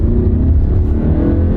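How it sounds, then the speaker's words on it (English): A car engine revs hard as the driver gives it gas, a loud, steady low-pitched roar sustained throughout with no speech. "That engine sounds strong"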